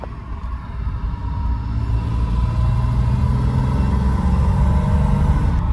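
A freshly manual-swapped BMW E36 M3 with no interior trim drives on a test drive, its engine a loud, steady low rumble that builds slightly and holds constant throughout, with no talking.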